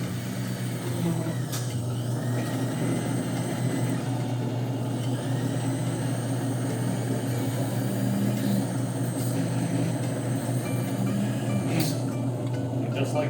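A CS700 milkshake machine spins a vanilla shake, giving a steady low motor drone that runs unchanged throughout at moderate level, with faint background sounds.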